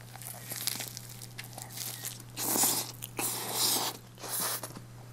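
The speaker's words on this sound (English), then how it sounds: "So we're going to try our Vietnamese meatball lettuce wraps and see how it tastes." Someone takes crunchy bites of Vietnamese meatball lettuce wraps, with repeated crisp crunches and crinkly chewing close to the microphone over a steady low electrical hum.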